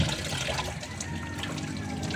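Running water pours steadily while bitter gourd (ampalaya) is washed, a close, continuous tap-like splash and trickle with no voices.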